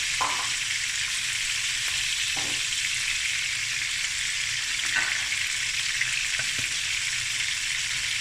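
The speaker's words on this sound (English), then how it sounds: "Want the skin to get crispy" Snoek fish frying in a pan as the skin crisps: a loud, constant close-up sizzle with occasional soft scrapes and taps of a utensil, no voices.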